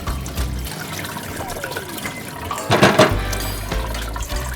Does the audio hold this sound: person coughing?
no